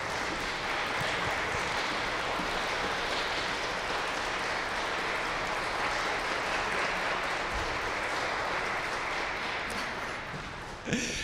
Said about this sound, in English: Let's give him one round of applause.